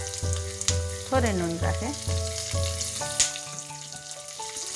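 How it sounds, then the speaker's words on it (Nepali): Large chunks of green capsicum sizzle in a hot pan for a pasta dish, a steady frying hiss under a voice talking close by. "अब यसलाई चलाउँदै 1-2 मिनेट जति फ्राई गर्नुपर्छ।"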